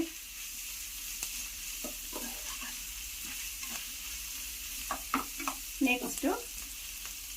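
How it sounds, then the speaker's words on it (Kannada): Chopped vegetables stir-fry in a pan for egg fried rice, a soft steady sizzle broken by scattered scraping stirs that grow busier near the end, with a brief spoken word. "ಎಲ್ಲ ವೆಜಿಟೇಬಲ್ಲು ಅಷ್ಟೇ 1 ಮಿನಿಟ್ ಈ ಥರ ಫ್ರೈ ಮಾಡಿ"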